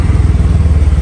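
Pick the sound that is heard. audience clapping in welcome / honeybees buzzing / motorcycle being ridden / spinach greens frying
motorcycle being ridden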